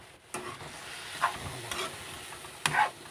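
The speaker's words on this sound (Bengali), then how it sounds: "লবণ দিয়ে আবারও নাড়তে থাকবো নেড়ে চেড়ে মিশিয়ে দেব" Boiled potatoes stirred with salt in a pan: a few scraping, clattering strokes of a spoon against the pan over a soft sizzle, close and fairly quiet.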